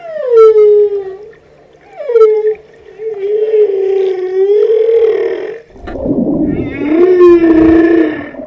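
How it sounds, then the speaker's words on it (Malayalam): Humpback whale vocalizations: long, loud, sliding moans and wails rising and falling in pitch, several drawn-out calls in sequence with a rougher, noisier call near the end. "ഹംപാക്ക് വെയിലുകൾ വളരെ സങ്കീർണമായ ശബ്ദങ്ങൾ പുറപ്പെടുവിക്കാറുണ്ട്."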